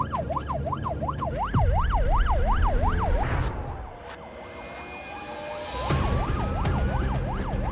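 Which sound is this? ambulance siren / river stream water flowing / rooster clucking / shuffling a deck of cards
ambulance siren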